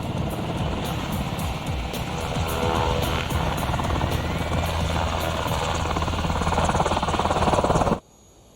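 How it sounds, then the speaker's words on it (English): An HH-60L medevac Black Hawk helicopter flies with a steady, heavy rotor roar and engine drone that holds loud for about eight seconds before cutting off abruptly. "This is the HH-60L, the latest version of the Medevac Black Hawk helicopter."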